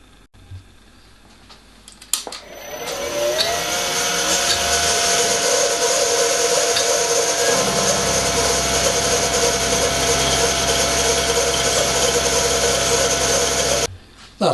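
A milling machine facing 4.5 mm off one face of a metal blank: the motor spins up, then a steady, loud cutting whine and hum holds for about ten seconds before stopping abruptly.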